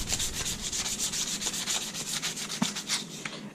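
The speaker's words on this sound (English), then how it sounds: "So you just want to sand the whole wiper on." Sandpaper rubs back and forth over a car wiper arm in quick, repeated close strokes, scratchy and steady with no talking.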